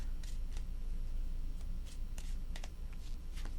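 Tarot cards being shuffled by hand, several quick crisp riffling bursts spaced irregularly over a faint steady background, close and quiet.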